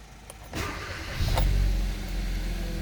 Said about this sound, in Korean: 시동을 걸어도 문제가 없고요. 바로 걸어보면 이상이 없죠.